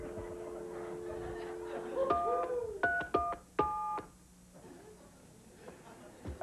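Telephone keypad tones sound in a short run of distinct beeps at about two to three seconds, over a busy background of voices and yips from a dog, with quieter clicks afterward.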